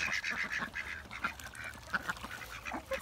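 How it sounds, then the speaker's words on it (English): A farmyard duck quacking repeatedly outdoors in muddy conditions, a run of nasal calls at fairly close range with short gaps between them and no one talking over it. "Really nice duck."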